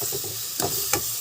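Two chopped tomatoes added to onions sautéing in a pan for a chicken curry, a soft steady sizzle with a couple of brief clinks from stirring, quiet and close.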